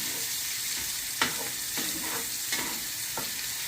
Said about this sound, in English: while the onions are sweating down